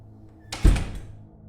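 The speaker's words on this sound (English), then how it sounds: "The old man shut the door and went back inside." A front door shuts with a single solid thunk, a short bump followed by a brief rattle, heard close and alone in a quiet night setting.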